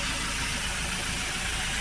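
A Ford Transit MK8 2.0 diesel engine with a blocked DPF idles steadily, a dense, loud, continuous rumble and clatter that fills the short stretch without a break.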